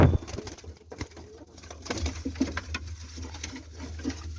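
Young pigeon chicks with freshly grown feathers, held in hand, give soft cooing and fluttering calls amid light rustling and handling noises, fairly close and at low volume.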